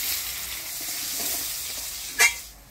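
Potato pieces fry in oil tempered with black cumin (kalo jeera) for a hilsa fish curry, a bright continuous sizzle with stirring scrapes and one brief sharp clink near the end.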